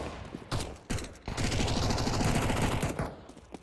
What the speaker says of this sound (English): that would be a rifle